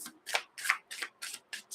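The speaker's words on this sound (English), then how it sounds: "maybe it's because I'm hitting the table when I'm shuffling." Playing cards are shuffled with repeated riffling bursts that also tap against a table, about six quick close swishes in a steady rhythm, with no talking.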